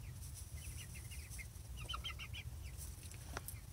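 Chickens cluck in quick bursts of short calls, fairly close, with a sharp squawk near the end over a low steady background rumble.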